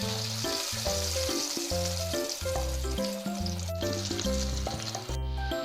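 Banana flower cutlets coated in breadcrumbs frying in hot oil, a loud continuous sizzle and crackle with rhythmic tonal clatter alongside, no voices.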